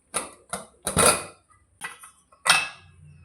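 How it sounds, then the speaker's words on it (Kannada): A pressure cooker lid is closed on a pan of paneer mint rice, giving a series of sharp metallic clanks and scrapes, five or six distinct knocks with short gaps between them, close and clear. "ಇವಾಗ ಕುಕ್ಕರ್ನ ಕ್ಲೋಸ್ ಮಾಡೋಣ"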